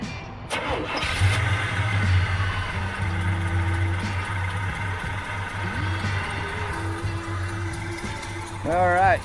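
A 1985 Chevrolet Silverado K20 4x4 cranks briefly and fires up, then settles into a steady, moderately loud idle with a slight rise in revs near the end.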